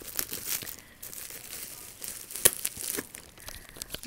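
Plastic packaging film wrapped with tape is crinkled and handled up close, giving irregular crackling bursts and brief tearing-like rips, quiet and alone.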